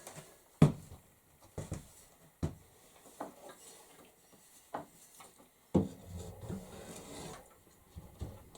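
A rasp files a wooden handle in scattered rough strokes, with a few sharper knocks and scrapes between them, close and quiet, with long pauses.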